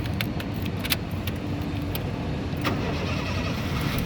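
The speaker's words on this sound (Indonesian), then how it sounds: "nah berikutnya sekarang kita coba nyalakan mobil ya" A 2007 Honda Jazz 1.5 i-DSI automatic cranks and catches, then settles into a steady, loud idle close by, with light key jingles at the start.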